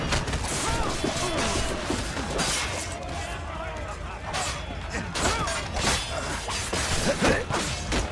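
Gunfire in the video game Assassin's Creed Rogue comes as a rapid, crackling volley of shots mixed with crashes and whooshes, while shouting voices carry over the chaotic fight.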